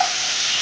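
Tomato, curry leaves and chopped chili frying in a pan for chutney, a short, even, hissing sizzle heard up close.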